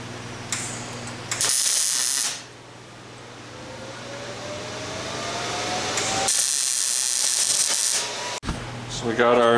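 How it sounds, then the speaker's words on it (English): Welding a 3/8 hose bung onto a plate from the back, with loud bursts of hissing, sizzling arc noise separated by quieter gaps filled with a low hum. "I'm going to weld this from the back"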